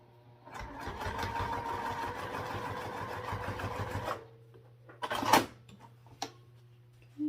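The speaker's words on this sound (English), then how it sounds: "we just want to top stitch it I'm going to do it at 3/8 inch" A sewing machine top-stitches a fabric bag at 3/8 inch, running steadily and close for about three and a half seconds before stopping, followed by a couple of brief handling clicks.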